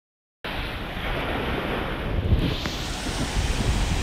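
Ocean waves washing onto the shore at Praia do Espelho beach in Trancoso, Bahia, Brazil, a steady, loud surf roar mixed with wind buffeting the microphone, starting abruptly after a brief silence.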